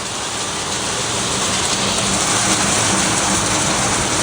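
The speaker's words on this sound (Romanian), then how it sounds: "nu mai rezistau de grindină" Heavy hail pounding down outdoors, a dense, steady roar of hard impacts that stays loud and unbroken throughout, with no voices.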